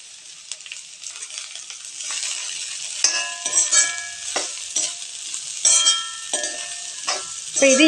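Chopped broad beans sauté in oil, giving a bright hissing sizzle with repeated close clinks and scrapes of a spoon stirring in the pan.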